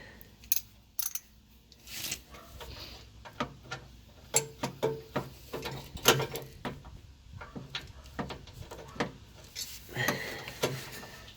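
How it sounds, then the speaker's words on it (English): Sharp metallic clicks and clanks of a wrench working a bolt on a 1974 VW Super Beetle pickup under restoration, irregular taps and ratcheting knocks at close range with quiet gaps between. "At least get this loosened up so I can fit my wrench on it"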